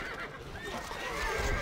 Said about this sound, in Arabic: الحصان. اركب مثل الريح. الحصان سريع.